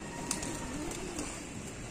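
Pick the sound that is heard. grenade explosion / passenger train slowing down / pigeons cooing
pigeons cooing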